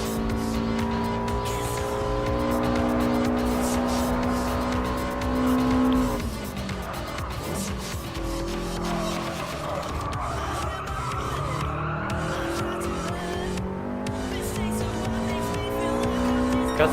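A Subaru Impreza 22B-STi races in Gran Turismo Sport, its engine holding a steady high drone before dropping and climbing again through a chicane, with tire squeal and skidding mixed in.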